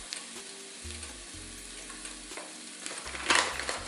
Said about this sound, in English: So we're gonna go in with about a cup of flour.